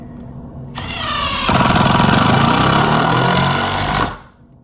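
A Ryobi impact driver on a high-torque setting runs close and loud for about three seconds, starting with a slower whir, then jumping into fast, rapid hammering that holds steady before stopping abruptly.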